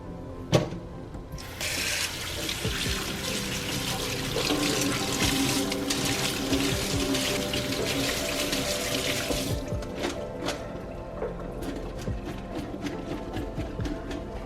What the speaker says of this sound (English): And then we're going to throw them back into the strainer and we're going to rinse them one more time.